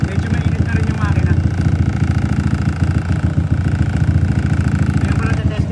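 A motorcycle engine runs steadily while warming up, a continuous loud low rumble with a fast, even pulse that holds for the whole stretch with no breaks.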